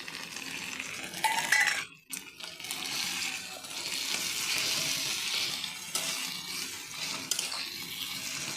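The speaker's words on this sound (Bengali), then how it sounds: "এবারে আমি আদা রসুনের পেস্ট দিয়ে দিচ্ছি।" Ginger garlic paste dropped into hot oil with fried onions and green chillies for chicken curry, giving a steady loud sizzle and frying hiss that continues with brief stirring noises, close up, no talk.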